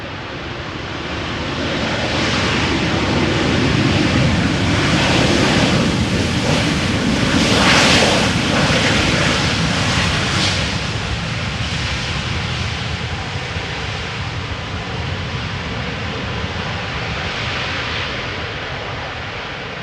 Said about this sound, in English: 737-800, flight 9651, touching down after 4 hours and nearly 45 minutes of flight